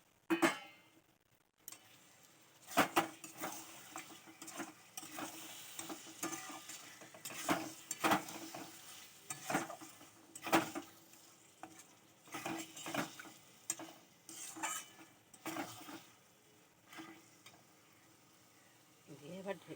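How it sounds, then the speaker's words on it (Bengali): Bombay duck fish stirred into frying masala in a pan, a run of irregular scraping and clattering utensil strokes over a faint low sizzle, quiet and close with brief pauses between stirs. "এবার লোটে মাছটা দিয়ে দেবো।"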